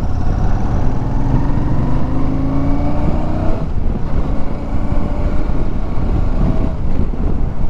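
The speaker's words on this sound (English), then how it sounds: "I'm loving that throaty sound this DNA filter gives it." A Royal Enfield Super Meteor 650 motorcycle fitted with a DNA air filter rumbles steadily and throatily while riding, mixed with heavy wind rush, loud and continuous throughout.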